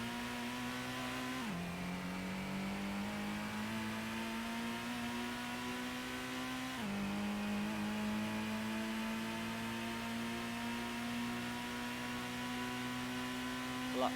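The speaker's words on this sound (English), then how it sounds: "Even though most of the cars sound exactly the same." Race car engines in Gran Turismo 1 whine at a steady pitch, dropping twice as gears shift, then climbing and holding again, with no voices.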